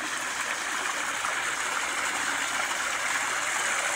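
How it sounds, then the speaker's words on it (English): A small backyard waterfall flows steadily, a continuous close rushing and splashing of water with no breaks. "Adjusting the waterfall for the flow."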